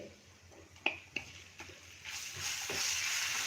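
Ginger-chili paste hits hot spiced oil on a low flame, with a few sharp utensil taps on the pan, then a rising, steady sizzle that grows louder toward the end.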